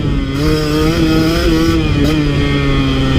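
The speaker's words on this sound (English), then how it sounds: "this bike is, I mean, yeah, it wants to be, you gotta rev it out just like any small bore bike" A KTM 150 XC W two-stroke dirt bike engine revs hard and close, a loud buzzing wail held high with slight pitch dips as the throttle is worked, drowning out everything else.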